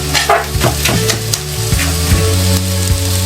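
Shredded cabbage and spring onion stir-frying in a hot pan, a loud close sizzle broken by repeated scraping knocks of a utensil at an uneven rhythm, with no talk.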